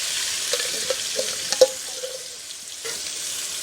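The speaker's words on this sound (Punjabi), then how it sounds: "ਹੁਣ ਪਾਤਾ ਆਪਾਂ ਨੇ ਪਿਆਜ਼ ਪੀਸਿਆ ਹੋਇਆ" Ground onion paste frying in a pan with cumin for chole: a steady, close hiss with small pops and spatters over a few seconds, and no speech.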